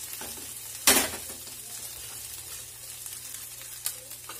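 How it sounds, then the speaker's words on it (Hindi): Masala spices frying in a pan for a UP-style green pea nimona, a soft steady sizzle close by with a couple of sharp stirring clatters, no voices. "मसाला हमारा भून चुका है"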